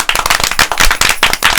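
A group of people clap together in a dense, rapid burst of sharp hand claps that stays loud and steady throughout, urged on for a small child lifted up on someone's head.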